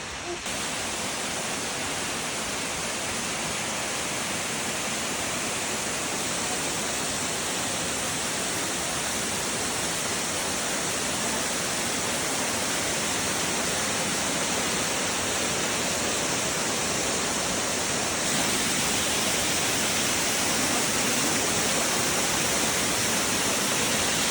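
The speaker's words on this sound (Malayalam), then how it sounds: "ഓൾമോസ്റ്റ് വെള്ളച്ചാട്ടം എത്തി" Constant, dense roar of a waterfall in Georgia, US, in autumn, loud and unbroken throughout, like heavy rushing water nearby with no other sounds standing out.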